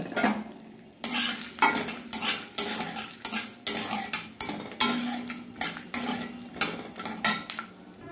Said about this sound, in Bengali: এবার খিচুড়িতে দেওয়ার জন্য আমি বাদামগুলো ভেজে নেব।